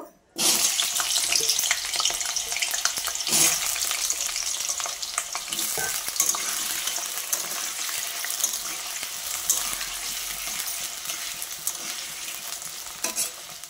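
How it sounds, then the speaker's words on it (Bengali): Hot oil sizzles loudly and continuously as potatoes fry, with occasional stirring scrapes and no talking. "দেখো তেলটা তো গরম হয়ে গেছে। আমি আলুগুলো আগে ভেজে নেব।"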